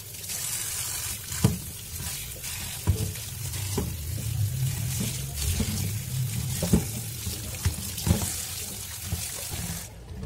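Papaya and okra being washed under running water at a kitchen sink, a steady close splashing stream with occasional louder clatters and knocks as the vegetables are handled.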